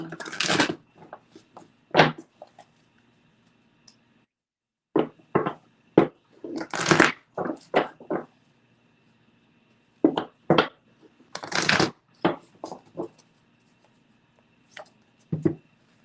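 Tarot cards handled on a table: scattered soft slaps, flicks and taps of cards being shuffled and laid down, arriving in short irregular clusters separated by near-silent pauses, close and quiet.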